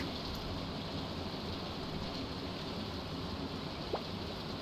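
Steady rain falling in the farming video game Stardew Valley, a constant soft hiss with no breaks, heard alone at low level.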